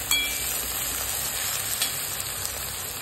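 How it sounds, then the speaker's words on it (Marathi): Turmeric, chili powder and onion-garlic masala frying in a hot pan, a steady, fairly quiet hiss and sizzle that runs unbroken and alone for a few seconds. "हळद, मिरची पावडर, कांदा लसूण मसाला टाकून घेतलेला"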